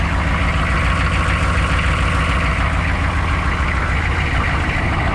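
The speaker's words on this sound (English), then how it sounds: "Chugging away, baby, chugging away. Straight pipe out the side, pretty cool. It's a freaking old school diesel, man, old school." Old school diesel truck idling through a straight pipe exhaust out the side, a loud, steady low chugging rumble, close and continuous with no talk.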